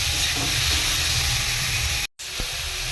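Mushrooms sizzling in hot oil in a pan on a gas stove, a steady broad hiss that cuts out abruptly near the end, followed by quieter frying.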